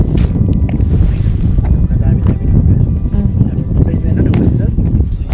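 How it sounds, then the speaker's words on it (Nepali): Strong wind buffets the microphone outdoors at Stonehenge, a loud continuous rumble with gusty surges throughout. "हावा यस्तो मजाको चलिरहेछ शीतल"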